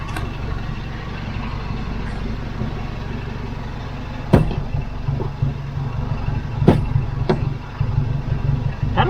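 A small truck's engine drones steadily at low revs as it works through muddy ruts on Thompsons Track, New Zealand, with a few sharp knocks and clunks from the body along the way.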